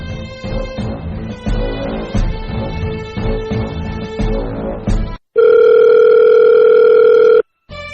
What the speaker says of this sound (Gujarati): મને આપણા બોડીગાર્ડને ફોન કરવા દે.